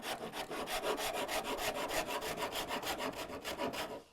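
A Shinto rasp works across a wooden forearm contour in steady back-and-forth strokes, about four per second, each a coarse, even scraping rasp, close and alone without any talk.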